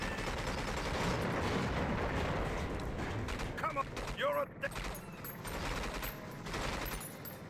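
Gunfire in the video game 007 Agent Under Fire: bursts of shots over dense, continuous game noise.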